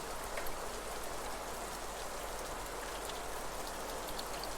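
Layered rain ambience of steady, dense rainfall hissing evenly on surfaces, with faint scattered droplet taps. It holds at an even, moderately quiet level throughout, with no voices.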